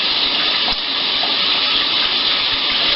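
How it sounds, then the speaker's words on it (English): Hot water runs steadily from a household tap, a loud, continuous gushing hiss with no breaks. "Let the hot water run."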